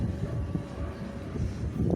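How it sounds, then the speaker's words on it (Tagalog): Strong wind buffets the microphone in a continuous low rumble, gusting unevenly without any voices. "Ang hangin ang nakakatakot dito."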